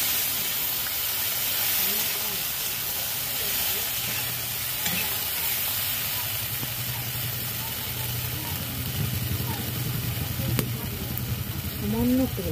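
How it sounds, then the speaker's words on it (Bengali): Potatoes frying in a pan while a paneer curry is being cooked, a steady sizzle with stirring and scraping, close and continuous for the whole stretch. "এখানটা আলু ভাজছি"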